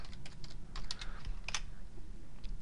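Typing on a computer keyboard while working in Excel, a quick uneven run of soft clicking keystrokes heard up close with no talk.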